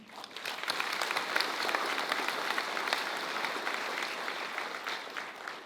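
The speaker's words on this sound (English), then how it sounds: "Big round of applause to them." A ceremony audience applauds steadily throughout, a dense wash of many hands clapping at moderate loudness, sustained without letting up, with no talk over it.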